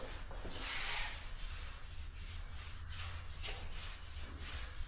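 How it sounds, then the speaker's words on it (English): Paper towels buffing wood stain on a truck camper's wooden bed platform make a steady, close rubbing and scrubbing sound with rhythmic back-and-forth strokes. "stuff from the paper towels, kind of buff it out a little bit, and then we'll put some wax into it."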